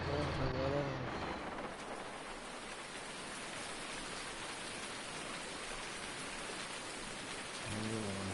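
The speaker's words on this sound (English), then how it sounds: "It's me like it's going to rain all day" Rain in a farming simulator game, a steady, soft hiss of falling rain that runs through the middle, with someone talking at the start and again at the end.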